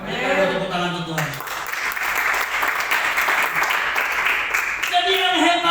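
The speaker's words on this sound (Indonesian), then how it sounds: "Tepuk tangan untuk Tuhan." A church congregation at a GKSI service in Batam breaks into loud, sustained applause, a dense clapping wash that swells in after a sung or spoken phrase and carries on steadily, with voices briefly heard at either edge.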